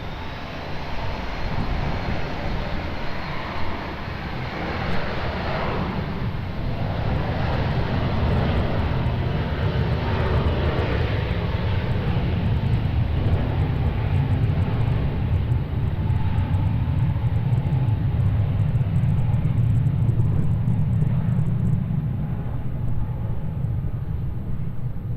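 Jet airliners at Lisbon Airport produce a continuous loud roar and rumble that stays steady for the whole stretch, with engine noise dominating and no voices.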